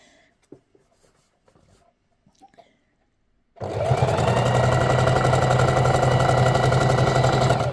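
A Singer Heavy Duty 4432 sewing machine doing free motion quilting starts after a quiet stretch of faint handling sounds, then runs loud and steady with a fast, even motor-and-needle whir.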